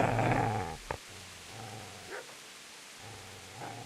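A dog in the video game Kingdom Come Deliverance gives a low growl that breaks into a sharp bark, followed by quieter intermittent growls and yips, fairly faint overall.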